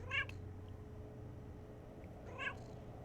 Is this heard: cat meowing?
yes